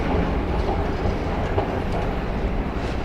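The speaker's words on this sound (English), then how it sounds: "I think we're gonna jump on the subway" A Washington, DC subway train rumbles past close by, a loud steady rolling roar of wheels on rails with faint clickety-clack and no voices.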